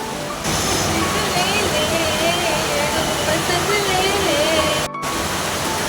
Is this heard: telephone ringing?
no